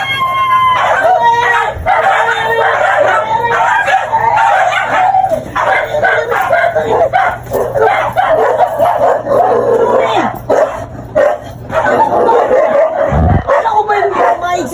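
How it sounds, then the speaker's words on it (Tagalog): A dog barks, yips and howls repeatedly and excitedly nearby, with a rooster crowing mixed in, while people talk over the barking throughout. "kasi nakita ko may aso"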